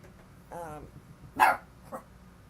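A puppy barks indoors, giving two or three short, high yips spaced apart against a quiet room.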